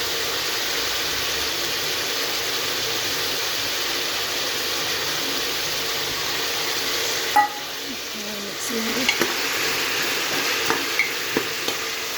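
Dried peas, soaked overnight, fry in a pan with a steady, moderate sizzle, joined later by a few light taps and scrapes from stirring.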